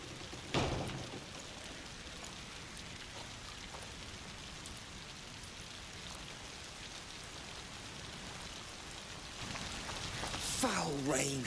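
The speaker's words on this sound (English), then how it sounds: "Foul rain." Steady rain falling in the video game A Plague Tale: Requiem, a continuous hiss of drops that swells slightly near the end, where a voice briefly speaks over it.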